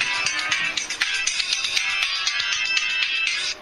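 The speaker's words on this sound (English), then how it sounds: "That's my alarm clock." An alarm clock rings steadily in a garage workshop, a bright continuous electronic trill with rapid pulsing, moderately loud and alone until it cuts off near the end.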